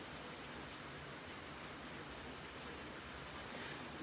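Rain falls in a steady, even hiss of dense broadband noise that carries on unbroken throughout, faint overall, with no voices.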